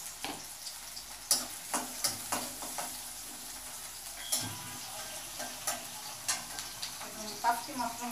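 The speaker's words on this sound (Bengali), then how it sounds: "কাশি মাছটা ভুনা করবো।" Kachki fish fries and is stirred in a pan, giving a quiet, steady sizzle punctuated by regular scraping taps of the spatula.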